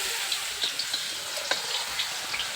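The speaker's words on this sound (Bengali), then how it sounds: "আলু ভাজা হচ্ছে।" Potatoes frying in oil in a pan with turmeric during large-scale home cooking, a steady close sizzle with faint crackles and occasional small pops and scrapes of stirring, no voices.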